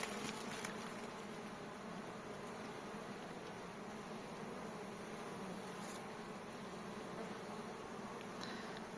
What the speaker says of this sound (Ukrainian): Полюбуватися, як працюють наші бджоли.